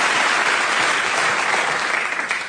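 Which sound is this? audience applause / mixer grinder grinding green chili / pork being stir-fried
audience applause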